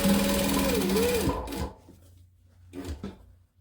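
A sewing machine top stitches the curved seam of a center-seam face mask, humming steadily and close for about a second and a half, then stopping, followed by faint handling knocks.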